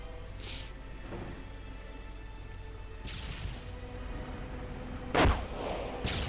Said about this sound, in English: More booby traps go off.